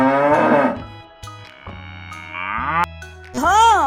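A cow and calf mooing up close, several loud, drawn-out moos with short pauses between them and no other sound behind.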